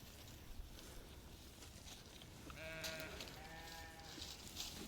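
Hair sheep yearlings bleat faintly against steady outdoor background noise, with two or three wavering calls near the middle and end, not heard above that noise until then, and no talking.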